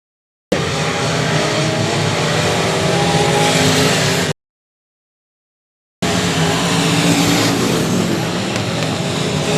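Stock race cars lapping the oval at 67 Speedway of Texarkana, engines roaring loud and steady as they pass. The sound cuts out briefly and then resumes at full volume.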